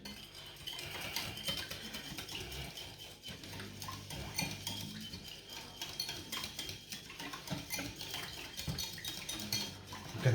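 A small piggy whisk clinks and scrapes steadily against a bowl, mixing a homemade herbal salve of daisy and plantain infused oil, a soft continuous close-up stirring with light metallic taps.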